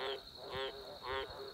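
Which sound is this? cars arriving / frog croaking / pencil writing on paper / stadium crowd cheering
frog croaking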